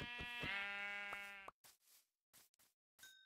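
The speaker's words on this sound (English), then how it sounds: "What is with all the sheep around here?" Minecraft sheep bleating: one close, wavering bleat, followed by a few short, faint game sounds and then a brief tone at the end.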